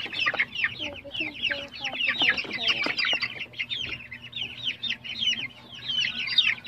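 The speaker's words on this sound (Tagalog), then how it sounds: "ito naman po ay ating pure Piela Asel na mga sisiw po." Newly hatched pure Piela Asel chicks peep continuously in a dense, high-pitched chorus of overlapping cheeps, close and lively throughout, with some clucking mixed in.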